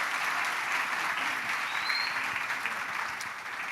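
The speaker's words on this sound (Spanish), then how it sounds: "Por favor, démosle un aplauso al pastor Andrés." A church congregation applauds the assistant pastor at a sixteenth-anniversary service: a dense, steady wash of clapping that holds at an even level throughout, with no voices over it.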